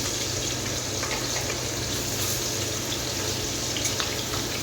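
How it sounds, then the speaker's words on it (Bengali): Pabda fish fry in hot oil with a dense, even sizzle that hisses steadily from start to end, close and loud, with no talk. "এই ভাজবো মাছগুলো।"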